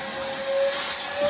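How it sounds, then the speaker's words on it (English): A vacuum cleaner runs in a foam-carving workshop with a steady, hissing whine that holds level throughout, heard alone without talk. "let me take the vacuum"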